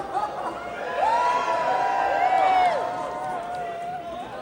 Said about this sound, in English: I'm just going to turn you into a woo crowd.